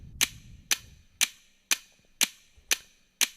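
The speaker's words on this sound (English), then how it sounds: "Sorry for the loud tick-tock." Loud, sharp ticking from a clock-like device, seven evenly spaced clicks about half a second apart, each with a crisp attack and quick decay, heard alone with no talk.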